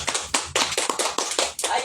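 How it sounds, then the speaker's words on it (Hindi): An audience claps loudly in a burst of sharp, irregular hand claps that run without a break. "ताली बजा दीजिए जोरदार"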